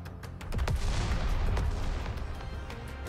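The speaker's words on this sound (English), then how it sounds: "More massive explosions and shockwaves reverberate around her. It's her gun sound in game." Gunfire and explosions crack out in the shooter game Goddess of Victory: NIKKE: a rapid burst of sharp shots with booming blasts under them, fairly loud, then a reverberant rumble that fades out, with no voices.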